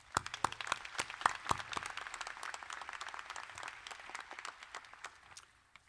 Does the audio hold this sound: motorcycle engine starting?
no